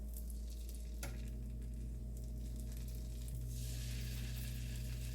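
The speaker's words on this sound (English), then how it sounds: "we're gonna let it fry up" Sweet potato pancake batter fries in a pan, a soft steady sizzle over a low hum, swelling louder toward the end with a small clink near the start.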